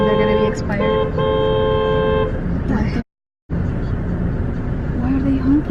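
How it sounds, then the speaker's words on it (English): A car horn sounds from inside a stopped car in traffic, one sustained, loud honk lasting about two seconds, followed by road noise and voices in the car. "Why are they honking?"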